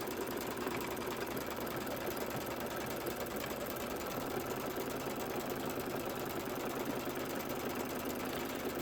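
A quilting sewing machine stitches a candy corn quilt with a fast, steady mechanical whirr and rapid needle rhythm running continuously and fairly loud throughout.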